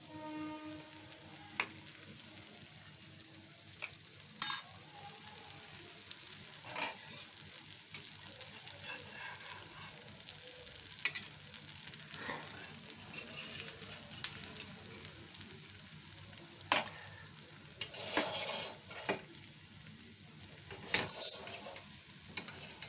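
Ghee sizzling in a pan while Amalu, a sweet offering in Lord Jagannath's 56 bhog, is cooked: a soft, steady frying hiss runs throughout with occasional brief clinks and louder spits.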